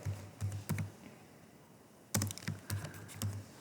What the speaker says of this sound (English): press tab and type your way.